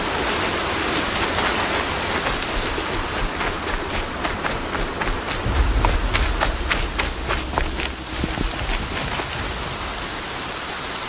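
Steady rain pours down in Horizon Zero Dawn, a dense even hiss with scattered sharper drops, and a low rumble swells briefly near the middle; no one speaks.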